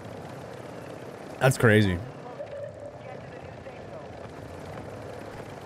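A helicopter in the video game Warzone drones steadily in the background as a low rotor hum, while a voice speaks briefly over it.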